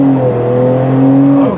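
A modified turbo-swapped BMW M340 (G20), tuned to around 800 wheel horsepower, accelerates hard in second gear, with a loud, close engine drone that climbs steadily in pitch and then drops off at the end.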